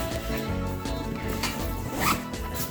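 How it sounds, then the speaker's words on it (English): A Peak Design Everyday Sling 10L bag is zipped closed, its zipper rasping in a few short quiet pulls, heard close up with no talking. "zip this up"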